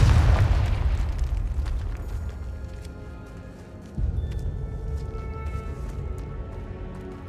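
Confringo spell explosions in the video game Hogwarts Legacy, a deep booming blast rumbling out and then a second burst midway, loud and heavy over low game ambience.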